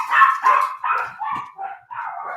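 A puppy barks and yaps at home in a rapid run of about six sharp, high-pitched barks, close and loud, with no talk over them.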